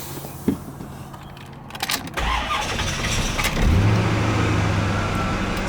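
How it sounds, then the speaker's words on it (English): 1996 C4 Corvette LT1 engine on an engine stand cranks briefly and catches, then settles into a steady, close, rumbling idle. "This engine starts right up."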